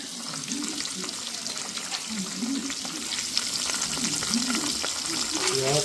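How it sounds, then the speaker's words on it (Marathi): A bhangda fish fries in a small amount of oil, giving a continuous close crackle and sizzle that grows slightly louder, with faint water-like bubbling and soft voices in the background. "एवढ्याशा तेलामध्ये आपल्याला एक मासा आपल्याला फ्राय करून घ्यायचा"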